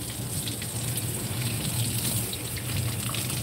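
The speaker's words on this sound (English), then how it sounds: "I have to rinse my hands" Tap water runs in a steady, close gush while hands are rinsed, a continuous hiss with faint splashing.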